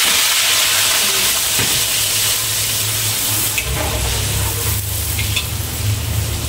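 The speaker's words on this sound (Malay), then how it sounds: "Kita nak goreng ikan bilis dulu." Washed anchovies frying in slightly extra oil in a pan, a steady loud sizzle with occasional stirring scrapes throughout, no talking.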